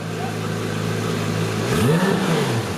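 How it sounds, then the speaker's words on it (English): Monte Carlo car engine idling low, then one quick rev that swells and falls back, close by and fairly quiet. "So maybe one little rev"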